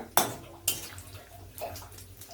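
Bay leaves, torn in half, are rinsed in water before frying, with two sharp splashes followed by softer sloshing and dripping close by.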